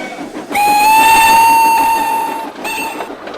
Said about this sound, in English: you could see Timothy puffing along the line with the local passenger train